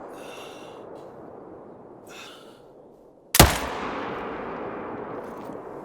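A hunting rifle fires a single loud, sharp shot in theHunter: Call of the Wild, with a long reverberating tail that rolls off slowly over quiet outdoor ambience.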